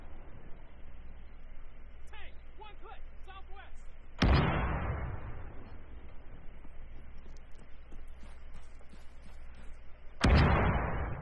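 Two heavy artillery blasts in the Arma 3 war game, a loud boom midway and another near the end, each with a rolling tail over faint background noise and brief distant crackles.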